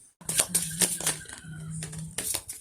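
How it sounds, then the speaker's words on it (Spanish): Osho tarot cards are shuffled nearby, with a quick run of crisp riffling snaps and soft card slaps, a short pause, then another burst of shuffling. "ahora vamos a barajar con el tarot de Osho"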